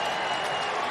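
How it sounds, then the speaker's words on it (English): Baseball stadium crowd cheering and applauding after a Reds hit into right field, a dense, loud, continuous roar with no break. "And listen to the crowd."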